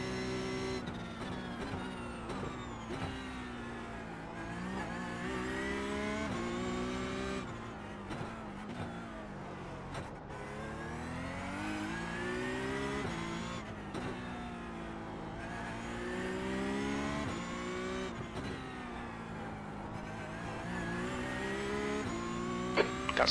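A Porsche 992 race car lapping the Long Beach street circuit in iRacing, its engine revving up and down through the gears in a continuous, fairly loud whine, with no talk.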